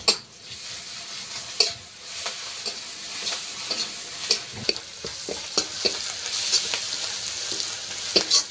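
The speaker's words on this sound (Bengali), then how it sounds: "এই যে পেঁয়াজ কাঁচা লঙ্কা তেলে দিয়ে দিচ্ছি।" Onion, green chilli and a little ground garlic fry in hot oil for a fish curry, a continuous sizzle broken by repeated ladle clicks and scrapes against the pan, nobody speaking.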